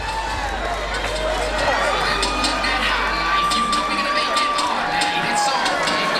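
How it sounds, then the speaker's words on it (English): A loud arena crowd at an LFA MMA fight in Phoenix roars and cheers steadily throughout, with an announcer's commentary running over the noise. "Crowd here in Phoenix loves it."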